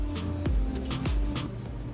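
Homemade Jamaican hot chocolate made from cocoa straining through a folded hand towel: a steady wet trickle and running flow, with a couple of soft drips and plops, close and continuous.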